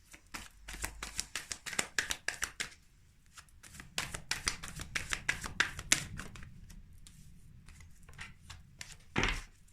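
Tarot cards being shuffled by hand in a quick, uneven run of soft riffles and slaps, fairly close, pausing briefly midway before resuming, ending on a sharper tap, with no voices.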